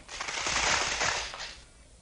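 A rifle volley fired by soldiers in a frontier-cavalry radio drama rings out as a single loud, rattling burst that swells and then fades over about two seconds.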